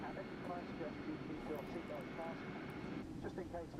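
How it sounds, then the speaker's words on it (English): An Airbus A320neo APU running in X-Plane 12, a steady low droning engine hum with a faint high whine, quiet and constant, with a person talking over it. "You can hear the APU running."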